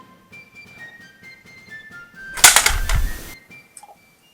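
A sharp gunshot blast bursts out mid-scene in a crime drama, a single loud report with a brief ringing tail, set against quiet background music with occasional soft tones.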